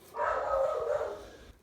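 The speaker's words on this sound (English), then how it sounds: "someone came to the door. My dog was letting me know." A dog barks at someone arriving at the door, a sustained, fairly close bark-whine lasting over a second, heard alone with no talking.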